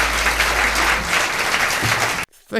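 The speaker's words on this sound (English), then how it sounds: "At least they applauded that." A live-recording audience applauds loudly and steadily for about two seconds, dense clapping that cuts off abruptly into brief silence.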